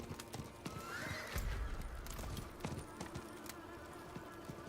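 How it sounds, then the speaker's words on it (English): A horse galloping in the video game Diablo 4, quick clip-clop hoofbeats with a whinny partway through, fairly faint and up close. "Come on, horsey, don't get stuck on terrain"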